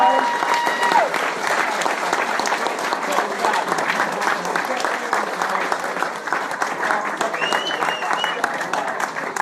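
An audience claps loudly and continuously after an interview with a music guest, a dense, sustained round of applause with a few cheers and whistles rising near the end.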